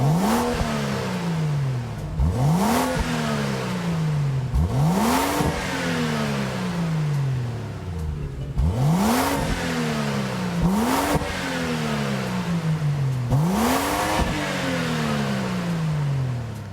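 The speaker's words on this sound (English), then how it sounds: "that distinct noise there comes from the BMW Z4 3i 2003" A 2003 BMW Z4 3.0i in Gran Turismo 7 revving repeatedly, each rise climbing sharply to a peak and then sliding down, about seven loud rev cycles in a steady rhythm with no talk.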